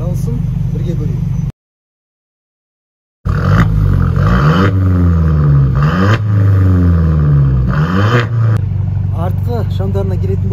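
Mercedes-Benz C180 with a 1.6 turbo engine revving hard in repeated rising and falling sweeps, loud and close, broken by a brief silent gap, then further revs.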